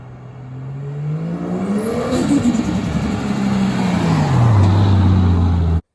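A Ford Falcon G6E fitted with an upgraded intercooler drives off and accelerates, its engine note climbing through a gear and then dropping again, steady and fairly close for about six seconds before cutting off.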